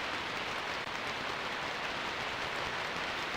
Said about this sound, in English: Splats of heavy rain pelt the door with a hollow sound.